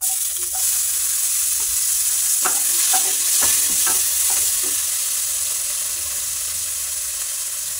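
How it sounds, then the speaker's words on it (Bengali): Chopped tomatoes hit hot oil with cumin, chili and bay leaf in a pan, giving a steady close sizzle with a few scraping stirs of a spoon, no talk. "জিরে আর লঙ্কাটা ভালো করে তেজপাতা ভাজা হয়ে গেছে, ওর মধ্যে টমেটো কুচিগুলো দিয়ে দেবো"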